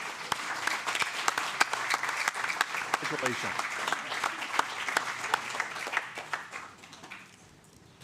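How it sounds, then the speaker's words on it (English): Applause from a council meeting audience right after a vote passes, a steady patter of many hands that fades toward the end, with a voice speaking briefly over it. "Applause was okay."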